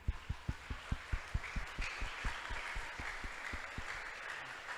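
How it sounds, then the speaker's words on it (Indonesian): Audience applause at a talk show anniversary event, starting with sharp, evenly spaced claps that soon blur into a softer, steady wash of clapping from the crowd. "tepuk tangan untuk kita sendiri ya"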